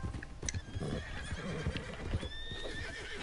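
A horse in the open-world Western game Red Dead Redemption 2 gives a loud, shrill whinny and snorts while its hooves clip-clop unevenly on the ground, with a few faint chirps in the background.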